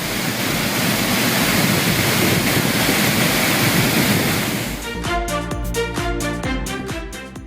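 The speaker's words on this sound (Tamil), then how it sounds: "குற்றாலத்தின் 5 அருவிகளிலும் நீர் ஆர்ப்பரித்து கொட்டுகிறது" Water from the Courtallam falls, swollen after rain, thunders down as a loud, steady roar for several seconds before music takes over.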